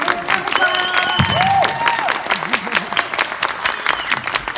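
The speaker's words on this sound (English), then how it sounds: "Everyone, please, round of applause" An audience at a Supanova pop culture convention panel applauds, steady clapping and crowd noise filling the room at fairly close range, with scattered voices and some electronic tones mixed in.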